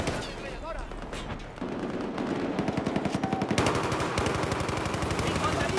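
Rapid automatic gunfire in Battlefield 4 rattles loud and close in dense bursts, building to a steady stream of sharp shots over a busy battlefield, with a voice faintly underneath.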